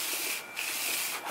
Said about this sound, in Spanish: nomás lo deslizan con la lija entre medio